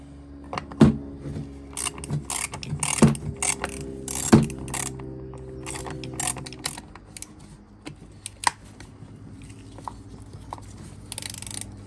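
Ratchet work on a Suzuki GSXR voltage regulator: rapid clicking ratchet strokes in short bursts during the first few seconds, then scattered metallic taps and handling noises, close and fairly loud.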